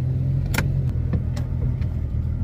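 Jeep Comanche pickup engine idling and running with its muffler, heard from inside the cab as a steady low rumble with a few brief higher clicks and knocks over it.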